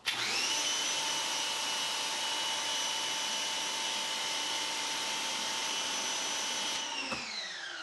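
Pressure washer spraying water through a nozzle guard, a loud, steady motor-like hiss with sustained tones running unbroken for about seven seconds before winding down at the end, no voices.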